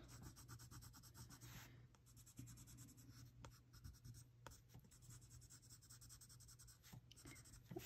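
A colored pencil scratches steadily back and forth across paper in soft, quiet strokes, with brief pauses between passes.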